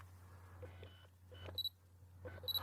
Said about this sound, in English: You should hear like a little zzz and then a beep as it gets focused.